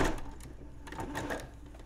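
A sewing machine stitches fabric for a pom-pom mug cozy in a quiet room, a short run of soft, rapid mechanical ticking with slight pauses.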